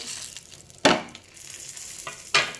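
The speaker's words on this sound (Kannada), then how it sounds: "2 ಚಮಚ ಕೊಬ್ಬರಿ ಎಣ್ಣೆ ಹಾಕಿ ಉದ್ದಿನಬೇಳೆಯನ್ನು ಹುರಿಯುತ್ತಿದ್ದೇನೆ" Urad dal fries in a little coconut oil with a soft crackling sizzle, broken by two sharp bursts as the pan is stirred or shaken, close and without voices.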